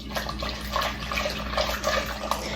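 Potatoes are rinsed by hand in a pot of water for homemade mashed potatoes, giving a close, steady sloshing and swishing with small splashes and no talk over it.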